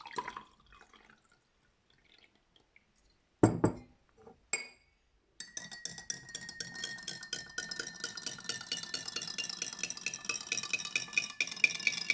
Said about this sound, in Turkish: Sonra üzerine bardağımız dolana kadar su ekliyoruz.